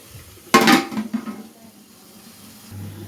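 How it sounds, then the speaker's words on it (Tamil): A lid goes onto a pot of biryani masala with one sharp metallic clatter and a brief rattle as it settles, followed by a faint low simmer in a quiet kitchen. "இந்த ஒரு நிமிஷம் நல்லா நான் மூடி வைக்கிறேன்."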